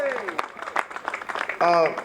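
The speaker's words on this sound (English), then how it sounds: "Let's give him another round of applause." An audience at a Black and Brown unity rally claps while a voice speaks over the applause, which rises and falls in uneven bursts beneath the talk.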